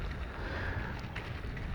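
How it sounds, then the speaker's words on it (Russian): Cold wind buffeting an outdoor microphone on a drizzly spring day, a steady, close, rumbling roar with no break and no voices. "Ветер холодный."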